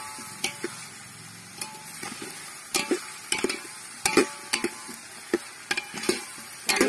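Brinjal pieces sautéing in a pan for a village-style fish curry: repeated sharp spatula scrapes and clacks over a soft background sizzle, close and fairly loud, with no one talking.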